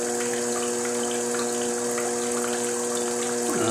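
Water pumping and circulating through pipes and a tube on a potter's wheel converted into a flat lapping machine, a steady continuous gush with a constant mechanical hum, alone without talk.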